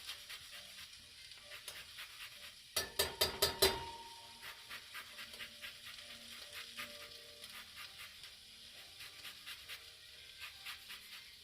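Sugar and pineapple stirred in a pan: a soft sizzle with a steady run of spoon scrapes and light clinks, plus a brief louder burst of clattering near the start.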